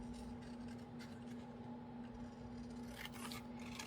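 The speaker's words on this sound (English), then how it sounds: "I think I gotta find some new scissors" Scissors snipping and rasping through journal paper, the blades sounding worn and janky, a steady close scraping cut over a constant low electrical hum, with a few sharper snips near the end.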